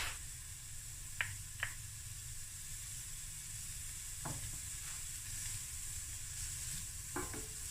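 Minced garlic clove sweating in a pan for chicken and corn soup gives a steady, soft sizzle throughout, with a few faint clicks of a utensil against the pan.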